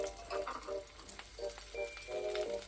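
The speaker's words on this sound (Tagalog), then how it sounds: "Mainit na ang oil, ilagay na natin yung onion" Onion and garlic sizzle steadily in hot oil, a close, continuous frying hiss with faint scraping and stirring clinks, and no talking.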